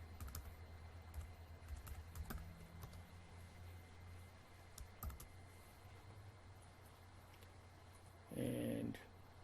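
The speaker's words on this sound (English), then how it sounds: "I'm just going to type that in." Soft keystrokes patter on a computer keyboard in a quiet room, faint and irregular, with a low steady hum underneath and a brief louder burst of noise near the end.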